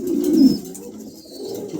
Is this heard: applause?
no